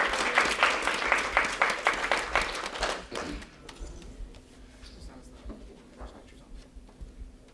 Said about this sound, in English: Let's give a round of applause to our team.